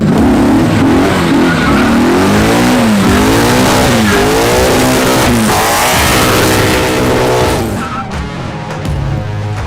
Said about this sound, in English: the MagnaFlow exhaust is so good and it has the look